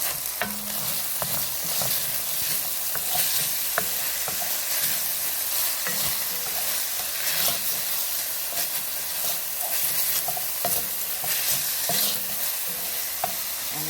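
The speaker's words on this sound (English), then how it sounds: "Everything is cooking very nicely. Let's give it a little stir." Ginger fries in a pot for chicken tikka masala, giving a steady close sizzle and hiss broken by repeated scraping stir strokes throughout, with no talking.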